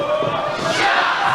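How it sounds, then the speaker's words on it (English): A wrestling crowd at an Elks Lodge show roars and shouts continuously, a dense mass of cheering voices filling the hall at close range. "Crowd's loving it here at the Elks Lodge"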